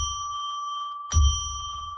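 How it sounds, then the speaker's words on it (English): A single clear ring of a small bell sounds close and bright, its pure tone sustaining steadily, with a soft knock or bump partway through over low background hum. "now we're going to ring the bell 3 times"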